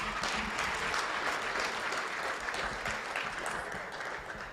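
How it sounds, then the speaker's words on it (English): A crowd claps at an academy's student celebration evening, a dense, even wash of applause filling the hall and holding steady before easing slightly at the close, with no speech over it. "Let's give one final round of applause."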